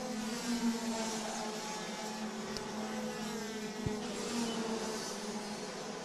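DD2 racing karts at full racing speed on a dry track in Mülsen, Germany: a continuous buzzing whine of engines rising and falling as karts pass at a distance, steady throughout with no talking.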